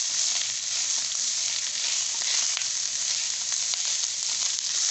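Meat seasoned with chili flakes fries in a hot pan with onions, garlic and ginger, giving a steady, close, bright sizzle with faint scraping as it is stirred.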